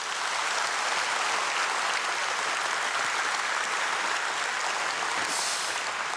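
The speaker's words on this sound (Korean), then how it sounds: "주의 자녀들을 위해서 격려의 박수 한번 하겠습니다" Steady, dense applause from a large church congregation at a dawn prayer service, sustained evenly throughout with no talking over it.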